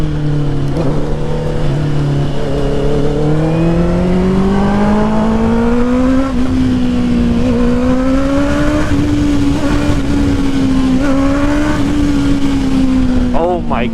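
A Honda CBR 650R motorcycle fitted with a new full exhaust, ridden on the street in near-freezing cold, drones steadily and loudly throughout, its engine note rising and falling through gear changes with wind noise underneath.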